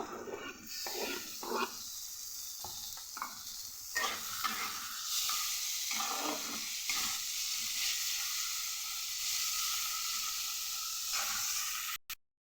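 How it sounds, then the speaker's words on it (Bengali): Steady frying sizzle of onion and tomato in a pan with occasional stirring scrapes and clinks, close and continuous, ending abruptly. "পেঁয়াজ আর টমেটো অর্ধেকটা ভাজা হয়ে গেছে।"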